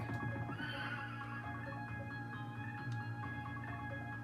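Horse neighing in a 1991 arcade video game, a faint whinny woven into steady electronic game music and effects, no talk.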